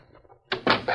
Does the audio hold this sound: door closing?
yes